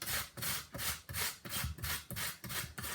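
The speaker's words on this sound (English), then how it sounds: "we just need to grate the potatoes" Potatoes rubbed on the coarsest side of a hand grater over a plate give a steady rhythm of rough rasping strokes, about eight in three seconds, close and fairly loud with no talking.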